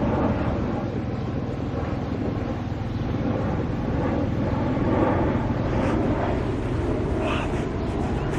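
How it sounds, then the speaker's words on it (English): A propeller or jet airplane passes overhead outdoors in Texas fair weather, a steady broad roar that holds loud and continuous throughout with a wind-buffeted, rumbling texture and no voices. "I've got an airplane going by."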